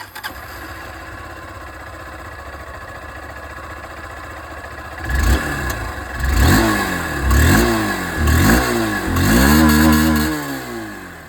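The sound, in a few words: motorcycle exhaust revving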